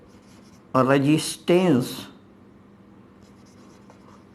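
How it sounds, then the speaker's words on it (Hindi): Writing on a board during a Hindi physics lesson on the meter bridge, a soft scratchy stroking sound that runs beneath a male teacher's brief speech in a quiet room. "फिर लिखते हैं"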